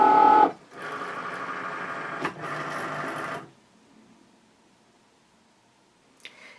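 A Cricut Maker cutting machine whirs as it pulls a fabric mat in through its rollers, two close motor runs with a click between them, then a faint hum, near silence and a small click at the end.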